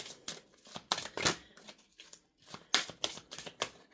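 Tarot cards are shuffled by hand at close range, making a run of crisp, separate slapping and sliding flicks in an irregular rhythm with short pauses between them.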